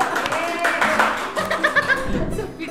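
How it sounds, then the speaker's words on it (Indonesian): Several people clap their hands during a character-guessing party game, the claps mixed with chuckles and laughter, with voices talking and murmuring over them. "Tepuk tangan dong."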